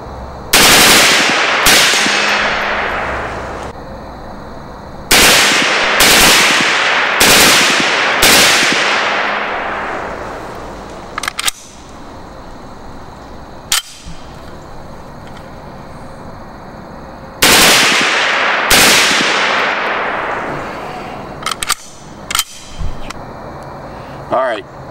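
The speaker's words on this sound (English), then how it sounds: "you saw me shoot it" A transferable M-2 carbine fires loud automatic bursts outdoors, several long rapid strings with ringing decay and a few single shots, with voices talking between volleys.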